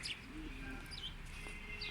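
Faint bird chirps and tweets over a steady background hum, a few short calls scattered across a couple of seconds.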